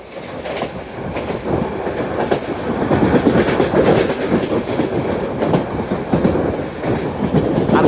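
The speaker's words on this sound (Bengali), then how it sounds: "আমাদের ট্রেনটি এখন কসবা থ্রু পাস করে যাচ্ছে" The Cox's Bazar Express passes through Kasba in the evening, heard from inside the train as a steady, loud rumble with repeated clickety-clack wheel beats over the rails and no voices.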